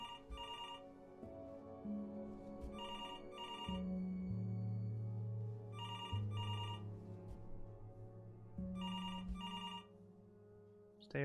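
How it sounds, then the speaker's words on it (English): An in-game telephone in Before Your Eyes rings in repeated bursts of bright, trilling bell tones over a sustained musical drone, the rings returning at regular intervals with no talking. "It just kept ringing."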